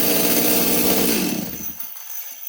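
A Stihl 026 chainsaw runs briefly at a low, buzzing idle, then winds down and cuts out into near silence within two seconds, close and loud at first.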